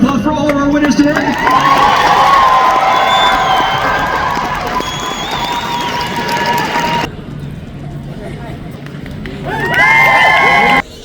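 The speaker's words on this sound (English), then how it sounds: "One more giant round of applause for all of our winners today." Loud convention crowd at a cosplay craftsmanship contest cheers, whoops and applauds its winners in a sustained roar, briefly dipping before surging again near the end.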